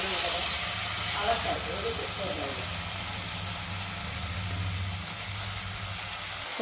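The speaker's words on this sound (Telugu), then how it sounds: "కొత్తిమీర పచ్చివాసన పోయే వరకు వేపుకోవాలి." Coriander leaves fry in a hot pan for a tamarind-and-tomato kothimeera pachadi, giving a steady broadband sizzle and hiss that runs throughout, fairly loud, with a low background rumble.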